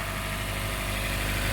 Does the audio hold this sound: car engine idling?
yes